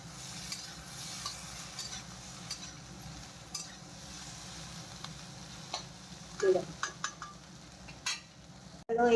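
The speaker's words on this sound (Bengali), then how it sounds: "একটু ভালো গুঁড়ো আর একটু এই যে মশলা দিয়ে এখন এটা ভালো করে ভাজা করে নেবো।" Vegetables frying with ground spices in a pan on a gas stove: a low, soft sizzle runs throughout, broken by repeated scraping stirs and a few sharp utensil clinks against the pan.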